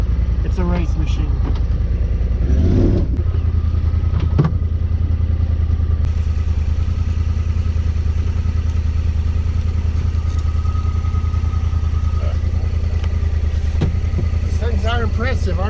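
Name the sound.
Honda Talon side-by-side engine accelerating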